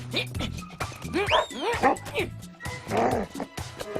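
A small cartoon dog yips and whimpers in short high bursts, close by, mixed with people talking over it.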